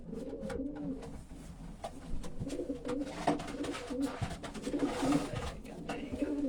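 Racing homing pigeons in a loft coo continuously in low, rolling murmurs, several birds overlapping, with occasional wing flutters and soft shuffling close by.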